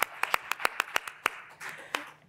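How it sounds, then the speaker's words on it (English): Applause from an audience at the close of a panel event, a thin scatter of individual claps with a few sharp hand strikes standing out, fairly close and sparse, with no talking over it. "Yes, give yourself a round of applause."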